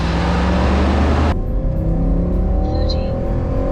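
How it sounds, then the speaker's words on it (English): A 2007 Hemi Dodge Ram 1500 pickup roars hard from a 1500 RPM launch, loud and close, then the engine note drops abruptly into a steadier, quieter drone. "we're gonna do a 1500 RPM launch"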